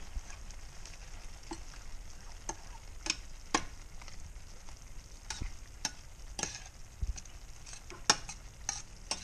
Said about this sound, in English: let's cook that, stir that around